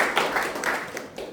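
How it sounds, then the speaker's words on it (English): A small group gives a round of applause during a meeting, a brief burst of scattered hand claps, moderately close and not very loud. "A round of applause."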